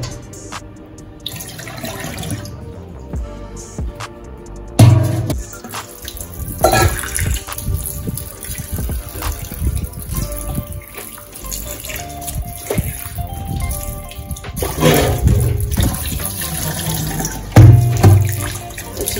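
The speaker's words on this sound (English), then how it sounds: "Small amount of water we'll have to use for the first water to wash the chicken." Tap water runs steadily into a sink with splashing and bursts of handling, rising and falling as a raw chicken is rinsed under the stream; no talking.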